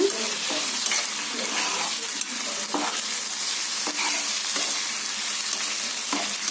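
A spoon stirs prawn curry in a hot pan, producing repeated scraping strokes at an irregular rhythm over a continuous close sizzle.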